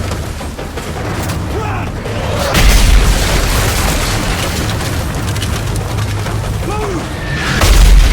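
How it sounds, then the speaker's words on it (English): Mortar shells bursting in Call of Duty Modern Warfare, with heavy low booms landing around the three-second mark and again near the end, over constant battlefield rumble while soldiers shout urgently throughout. "Mortar incoming! Mortar incoming, man!"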